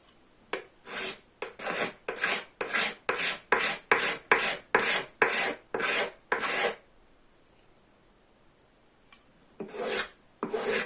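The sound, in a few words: scraper shaping wood for a bow saw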